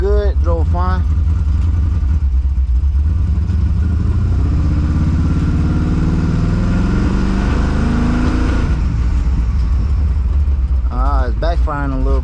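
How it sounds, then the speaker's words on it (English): A 1964 car with an LS engine swap runs loudly and steadily while being driven, with engine rumble and roar carrying throughout and faint pops that hint at backfiring. Someone talks briefly at the start and again near the end. "It's backfiring a little bit."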